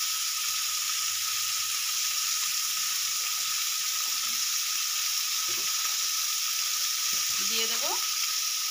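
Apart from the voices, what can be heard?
mourola fish and fried vegetables sizzling in oil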